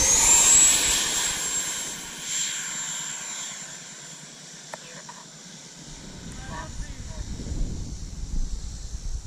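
A Freewing F/A-18C Hornet RC jet with a 90 mm electric ducted fan flies on a calm afternoon. A high, jet-like whine starts loud, fades as it moves away, then builds again into a broader rushing roar.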